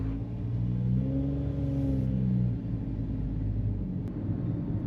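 A Japanese kei truck's engine starts up again after an automatic idling stop, a low rumbling hum that rises briefly and then settles into a steady idle, heard from inside the cab.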